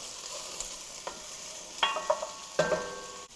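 Onion and garlic sautéing in a pan for roasted cauliflower soup, a quiet steady sizzle broken by a few light metallic clinks and taps of a utensil, close, without talk.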